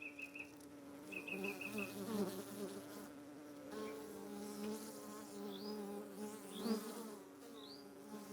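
Honey bees buzzing steadily around hives during beekeeping work, a dense close drone with a few brief high chirps over it and no voices.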